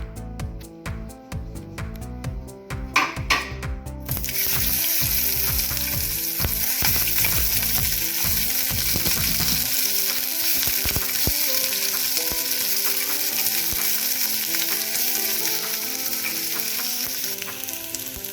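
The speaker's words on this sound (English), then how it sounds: "I am heating oil in a pan. It is hot now. I am going to add the onions and saute it." Onions hit hot oil in a pan and start to sauté with a loud, steady sizzle. Earlier stirring clatter gives way to a continuous crackle that stays close.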